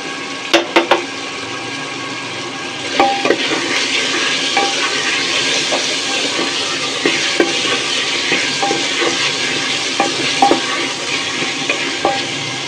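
Ginger, garlic and cumin pastes fry loudly in a pan for Bangladeshi Malabar spinach curry with lentils and potatoes, a dense continuous sizzle broken by sharp clinks and scrapes of a spoon stirring.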